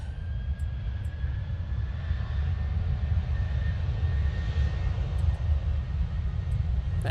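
Ryanair jet engines spooling up at Manchester Airport, a loud, steady low roar that swells slightly with a faint rising whine above it, heard alone without talk.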